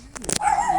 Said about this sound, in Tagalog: ay ang lalaki ng aso